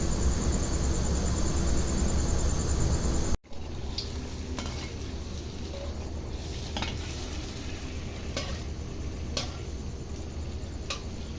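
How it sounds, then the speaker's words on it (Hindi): Golgappa puris deep frying one at a time in hot oil give a steady, close sizzle, cut by a brief gap, then softer bubbling with scattered sharp ticks and pops. "और ये मोस्टली एक एक ही फ्राई होगा, फिर ही अच्छा फ्राई हो सकेगा।"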